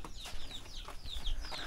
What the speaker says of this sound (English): We always make sure we feed the chickens.